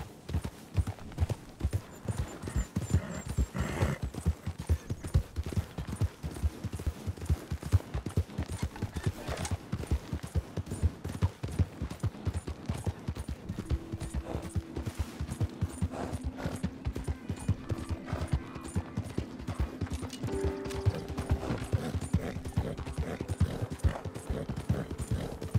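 A horse gallops in Red Dead Redemption 2, its hooves drumming in a fast, steady rhythm throughout, close and prominent, with faint game music tones rising in the later part.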